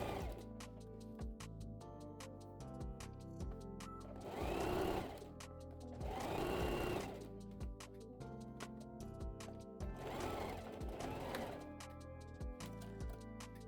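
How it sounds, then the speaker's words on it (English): Sewing machine stitching across the elastic waistband of toddler shorts, several short whirring bursts of stitching separated by pauses, close and fairly quiet. "we're going to sew across the top of the elastic to secure it in place"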